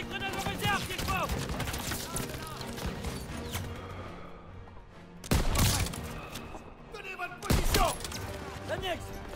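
Call of Duty WW2 campaign combat at a defended position: sustained rifle and machine-gun fire with two sharp, heavy grenade-like blasts midway, under a soldier's voice shouting orders in French.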